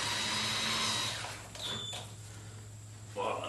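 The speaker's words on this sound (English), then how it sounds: "I can pre-drill the hole" A power drill whirs briefly while pre-drilling a screw hole during wiring work on a 1976 Corvette restomod, a steady mid-level drone with short higher-pitched spurts near the end.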